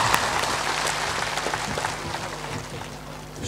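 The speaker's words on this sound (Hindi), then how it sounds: "थोड़ा ताली बजा दो ऊपर हाथ करके।" Audience at an outdoor satsang gathering clapping with hands raised overhead, a loud, dense, continuous burst of applause lasting several seconds.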